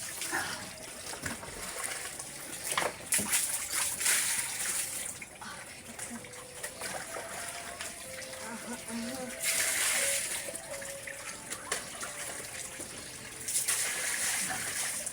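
Water splashes and trickles as it is poured into a drinking container for chickens, coming in intermittent gushes and splatters up close, with a person talking over it at times.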